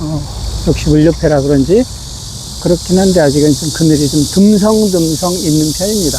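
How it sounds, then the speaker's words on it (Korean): A steady high-pitched buzzing drone of July cicadas along a Han River walking path, faint and distant in the background under someone speaking continuously nearby. "7월 매미가 울고 있습니다."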